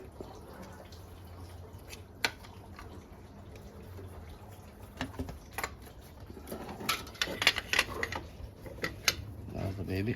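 Coolant drips and splatters from a removed water pump on a Mercedes Citan 1.5 dCi during a timing belt job, irregular close taps that grow busier toward the end, with workshop handling noise and some talk.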